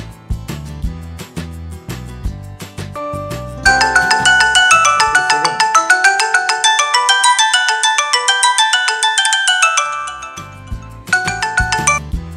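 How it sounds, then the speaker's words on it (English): An Android phone ringing loudly after being triggered remotely, a bright repeating ringtone melody that plays continuously at close range with short tonal notes before and after. "Once you click on ring, your phone will start ringing very loudly wherever it is."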